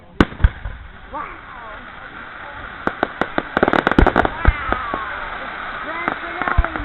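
Fireworks at a St. Marys, Pennsylvania display go off in a rapid crackling volley of pops and bangs that builds and then comes in scattered bursts, with people chatting and exclaiming nearby.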